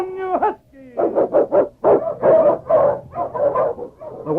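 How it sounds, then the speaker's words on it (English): A husky sled dog sound effect for a radio drama: a rapid series of loud, close barks and yips, rising and falling in pitch, with a whining start and rhythmic bursts throughout. "On King! On you Husky"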